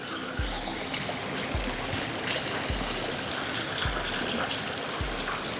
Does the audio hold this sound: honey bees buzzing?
no